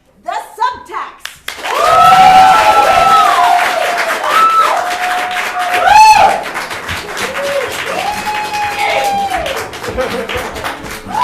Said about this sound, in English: each one of you has to clap for 10 people